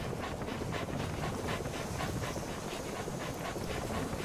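A dog in the video game Metal Gear Solid V pants in quick, rhythmic breaths against a constant windy, rushing background, with no speech.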